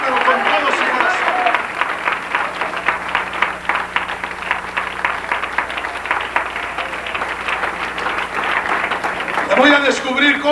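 Church congregation applauding during a pastor's sermon, dense rapid clapping filling the room for most of the stretch, with voices rising over it near the end.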